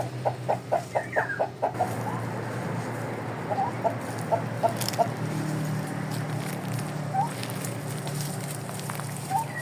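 Blue Shamo chickens cluck outdoors in short rhythmic bursts, a quick run at the start then scattered calls, over steady low background rumble.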